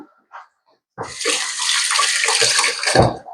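Hands being washed under running water at a tap, a couple of brief splashes followed by a steady splashing stream that ends with a final loud splash.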